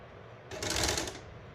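A sewing machine stitching a shirt with a straight or zigzag stitch runs in one short, close whirring burst lasting under a second, then stops.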